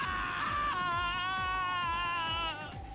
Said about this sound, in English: George's scream after he ran into the room told them everything they needed to know.